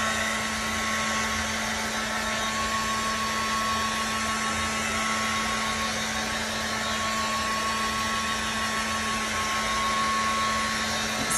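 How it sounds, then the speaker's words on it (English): A heat gun set to low blows steadily over a resin summer centerpiece bowl, producing a constant, even whooshing hum with a faint electrical drone that runs unbroken from start to finish. "Let's try my heat gun again."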